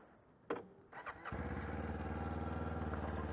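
A Kawasaki 500 motorcycle engine starting: a few starter clicks and cranks, then the engine catches and settles into a steady, close, even idle.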